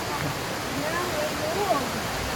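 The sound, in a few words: river flowing in forest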